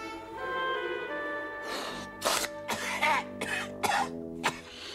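A person coughs in a close, harsh burst of five or six rough coughs that grow stronger and come in uneven spasms, with heavy breaths between them and no words.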